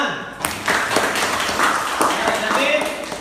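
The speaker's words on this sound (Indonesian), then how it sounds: "Oke, bagus. Tepuk tangan." A school class breaks into applause for classmates, a burst of many hands clapping that starts abruptly and carries on steadily, fairly close and loud in the classroom.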